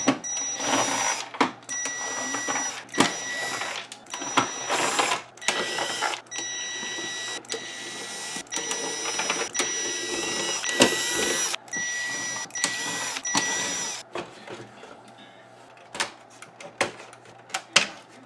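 Screws are backed out of an Aiwa CSD-FD91 boombox with water damage, giving a steady series of close, sharp clicks and ratcheting ticks with brief pauses, no talking.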